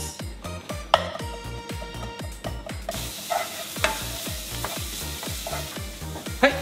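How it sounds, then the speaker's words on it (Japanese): Garlic and ginger sizzle gently in sesame oil over medium-low heat with a steady close crackle, broken by a rhythmic series of soft low knocks and scrapes as they are stirred, no talk. "そしたらちょっと弱めの中火くらいでゆっくり炒めていきます"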